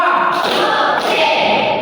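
A classroom group claps together in a chant during a Qur'an Hadith lesson, making a dense, loud wash of many hands with a couple of sharper beats less than a second apart, continuous for about two seconds.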